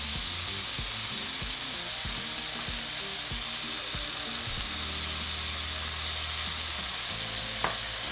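Meat seasoned with garlic, salt and pepper sizzles steadily in a hot pan, a continuous close frying hiss with occasional stirring scrapes, no talk.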